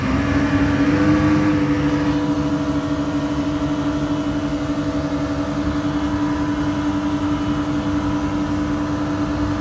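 A used 2008 Yamaha 212X wakeboard and wakesurf boat underway, its engine droning loud and steady at a constant pitch with only a slight rise early on, no voices.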